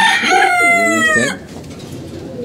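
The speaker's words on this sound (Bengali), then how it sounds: "এই যে মোরগ" A rooster crows once loudly and close by in a long, full cock-a-doodle-doo, the call ending abruptly and leaving a quiet farmyard background.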